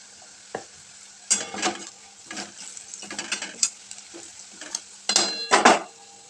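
Turmeric and salt stirred into hot oil in a pan, faint sizzle under repeated bursts of metal spoon scraping and clinking against the pan.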